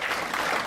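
A church audience claps in a steady, dense patter of applause that fills the short moment without a break.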